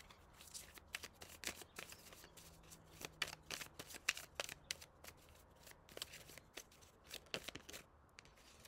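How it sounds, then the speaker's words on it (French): Playing cards are shuffled and drawn for a tarot-style reading, giving repeated crisp riffling and slapping bursts with soft flicks between them, close and fairly quiet, no voices. "je vais tirer quelques cartes avec celui-ci pour finaliser"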